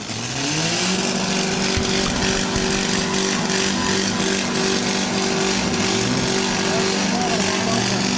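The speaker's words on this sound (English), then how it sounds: "Somebody's throttle stuck wide open." A demolition derby car at the 2012 Lorain County derby, its throttle stuck wide open, roars at a steady sustained pitch, loud and continuous throughout, with crowd and announcer noise underneath.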